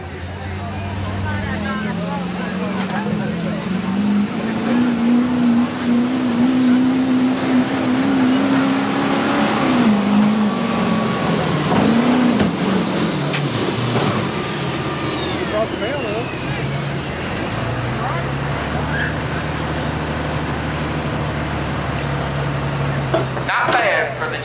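A 2011 GMC diesel truck at a hot street diesel drag event at Millers Tavern roars loud and close, its engine note climbing and then easing off as it passes, with a faint voice under it.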